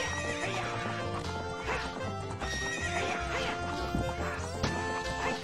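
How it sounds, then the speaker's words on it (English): A horse neighs and gallops in The Legend of Zelda: Ocarina of Time, with a loud whinny over steady clip-clop hooves and background game music throughout. "I rode a horse"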